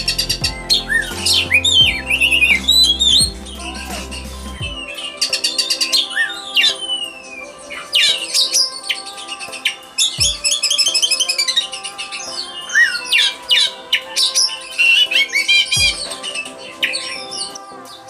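Oriental magpie-robin (kacer) chirping and calling in varied, bright whistled phrases, loud and close, with repeated bursts over about eighteen seconds; a low humming drone underlies the first few seconds.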